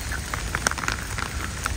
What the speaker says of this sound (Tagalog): Isang linggo na kasi umuulan dito.